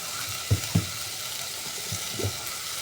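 Ground tomato-onion masala paste hits a hot pan for egg curry, giving a steady, fairly faint sizzle with a few soft stirring knocks and no talk.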